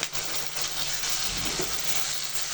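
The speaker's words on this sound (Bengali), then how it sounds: "সসটা দিয়ে এখন দেবো সামান্য পানি।" Water is poured into chilli chicken sauce in a pan, giving a continuous splashing hiss for a couple of seconds.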